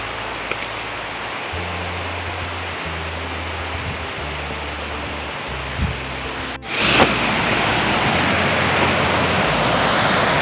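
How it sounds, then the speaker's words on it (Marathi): Dudhdhara waterfall on the Narmada river at Amarkantak pours in a steady, dense roar, with a muffled low rumble early on and a brighter, closer rush after a brief break. "मैया आपली उंचावरून धबधब्यासाठी खाली येते। हा दूधधारेचा प्रवाह"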